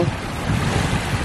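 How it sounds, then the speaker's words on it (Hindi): Sea waves wash in at Bangaram Island, Lakshadweep, as a broad, steady roar of surf mixed with wind noise, continuous and fairly loud for a brief moment. "यहाँ बैठकर आपको समुद्र की लहरों की आवाज़ सुनकर बहुत सुकून मिलेगा"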